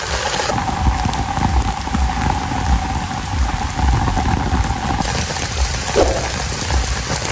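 Heavy, sudden monsoon downpour pounds outdoors in a steady dense roar of rain hitting surfaces, loud and continuous, with a brief faint voice near the end.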